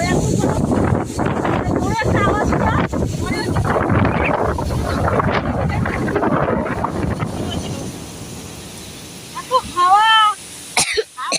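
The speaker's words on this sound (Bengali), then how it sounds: "এত হাওয়া দেখো কি অবস্থা আমাদের মণ্ডপের" Strong wind buffets the microphone at a festival pandal in heavy, rumbling gusts for several seconds, then eases, followed by a brief voice and a cough.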